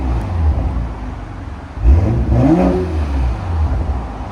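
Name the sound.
BMW M340i cat-back exhaust revving with valves open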